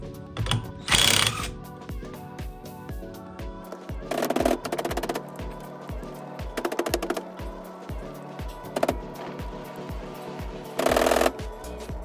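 A ratchet wrench working the 19mm steering wheel nut on a Nissan 350Z during clock spring replacement, heard as quick repeated clicking bursts of ratcheting separated by pauses and lighter mechanical clicks, close by.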